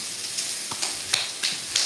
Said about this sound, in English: Hear the sizzle, that makes you hungry just right after you do it.